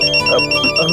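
A mobile phone ringtone plays loudly and close, a bright electronic tone pulsing in short repeated bursts over a faint melodic backing, with no talk.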